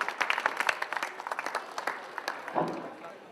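Scattered clapping from an audience at an alumni meet, a thin, uneven patter of separate claps that peters out, with murmured voices underneath.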